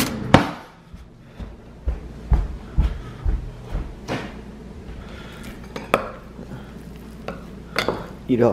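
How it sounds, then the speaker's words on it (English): A spoon stirs hot ramen in a bowl, making a series of close clinks and scrapes at an uneven pace. "And now I need a spoon to stir this."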